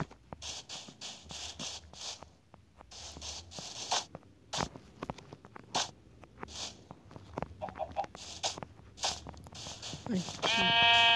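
A video-game sheep lets out a wavering bleat near the end, after a stretch of rapid clicking and crunching game noises with some talking mixed in.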